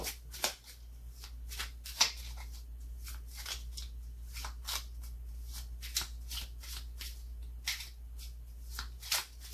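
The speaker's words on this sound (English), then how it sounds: "I'm using just a Beetlejuice themed deck of regular playing cards." A Beetlejuice-themed deck of regular playing cards is shuffled by hand, with quick riffling bursts repeating about every half second, close and fairly quiet over a low steady hum, with no talking.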